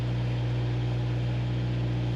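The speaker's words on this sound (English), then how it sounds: "Charging up the boat. Finally got the engine started." A boat engine idling steadily, a constant low droning hum with an unchanging tone, close and even for the whole stretch.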